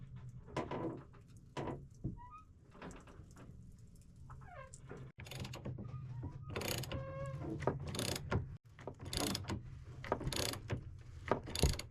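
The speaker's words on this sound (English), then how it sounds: "let's give it a shot, see if we're able to crank these bolts loose now." A ratchet wrench cranking large interior chainplate bolts loose on a sailboat, giving faint, uneven clicking bursts with a few sharp knocks and brief squeaks in a quiet interior.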